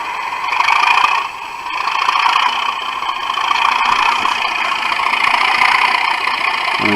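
DCC sound decoder in a Bachmann Class 37/0 model locomotive running on a rolling road, giving a steady diesel engine drone with a brief dip in level, continuous and fairly close, no talking.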